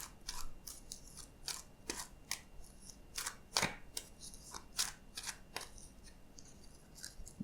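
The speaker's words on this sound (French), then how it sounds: "pendant que je bats les cartes." Tarot cards being shuffled by hand, a string of crisp riffling and snapping bursts at close range, irregular and quiet, with no talking.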